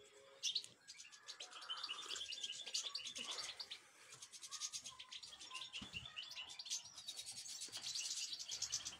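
Goldfinches in a breeding aviary give a steady stream of bright, overlapping chirps and twitters, close and fairly busy throughout, with no voices.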